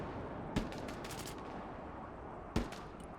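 Gunfire in the Broken Arrow war game: two sharp, separate shots about two seconds apart over a steady bed of battlefield ambience, with no talk.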